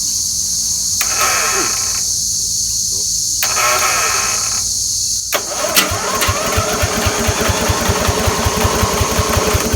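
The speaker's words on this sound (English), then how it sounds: "So now what I can do is I can actually turn the motor over." A small lawn mower engine is cranked over: two bursts of starter whirring, then a sustained rhythmic chugging with repeated pulsing strokes over a steady background hum.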